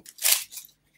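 Scissors cut open a package in a short burst of crisp snipping and crinkling. One strong cut comes first, then quieter snips, with a final brief snip.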